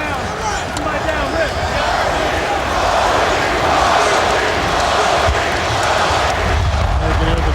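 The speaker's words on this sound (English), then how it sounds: "the crowd going crazy" Loud, sustained roar of a packed NBA basketball arena crowd cheering during a Washington Wizards game featuring Michael Jordan, a dense continuous wall of voices swelling and holding without a break.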